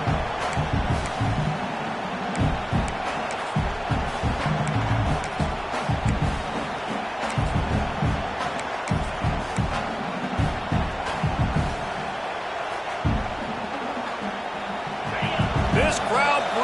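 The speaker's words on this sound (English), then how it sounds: "This crowd bringing the energy and noise early" A stadium crowd roars steadily in the College Football 26 video game, a dense continuous wall of noise with thumping impacts and cheering swells throughout.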